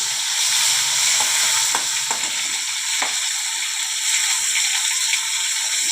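Chopped tomato frying in a pan with a loud, steady sizzle close up, interrupted by a few brief clicks and scrapes of a utensil.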